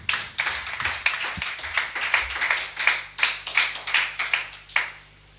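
A church congregation clapping in a steady rhythm, about two to three claps per second, fairly loud and close, with a low hum underneath and no talking.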